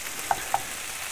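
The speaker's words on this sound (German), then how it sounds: "Und dann können die Hackbällchen so ein bisschen anbraten" Meatballs fry in a very hot pan with a constant dense sizzle, broken by two small pops close by.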